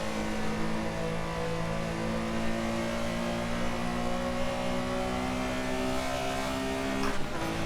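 A Porsche's engine drones steadily in the Assetto Corsa racing game, holding a constant pitch with no talk over it, then shifts sharply near the end of the run.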